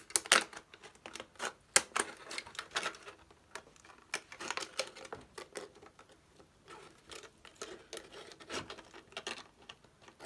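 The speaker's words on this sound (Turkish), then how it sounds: "Bıçakla da kesebilirsiniz ama makas düzgün kesmenizi sağlayacaktır." Scissors cut through a plastic PET bottle with a steady series of crisp, fairly quiet snipping clicks and crackles, close up and uneven in rhythm, with no voices.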